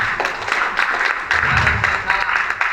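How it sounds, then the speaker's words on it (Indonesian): An audience at an Islamic preaching class applauds a participant, steady crowd clapping that runs continuously at moderate loudness, with faint voices underneath. "Tepuk tangan dong untuk Chance"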